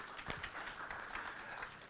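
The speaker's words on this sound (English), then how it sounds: "Give yourselves a round of applause." Audience applause, a quiet, distant patter of many hands clapping steadily throughout.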